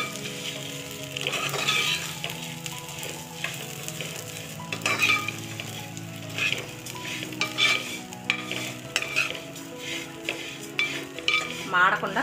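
Semiya (vermicelli) frying in ghee in a pan for upma, with a steady sizzle under repeated scraping and clinking of a spoon stirring against the metal pan, close up.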